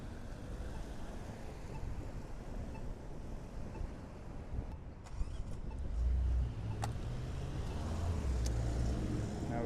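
Cars turning right on red at a city street intersection beside a cycle track, a continuous low engine and tire rumble that swells as vehicles pass nearby, with a few faint clicks and knocks.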